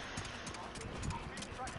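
Rhythmic hoofbeats of a galloping horse in the video game Call of Duty: Warzone, steady and moderately loud, with people talking over them.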